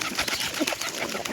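Pigeons cooing close by in soft, throaty bursts, several overlapping calls over a brief moment, with faint rustling and no one talking.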